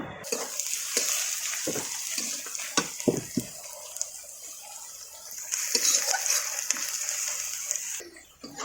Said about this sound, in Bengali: এই যে আমার পেঁয়াজ কিন্তু খুব ভালোভাবে ভাজা হয়ে গেছে।